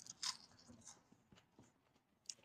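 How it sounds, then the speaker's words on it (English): Biting into thick-battered fried fish from fish and chips gives a few quiet, close crunches, with sharp snaps near the start and end and soft chewing between them. "you can hear that crunch."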